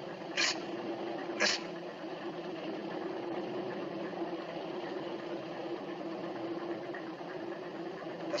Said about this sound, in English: Cut the engine.